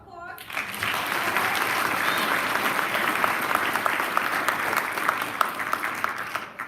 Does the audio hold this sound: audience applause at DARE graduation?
yes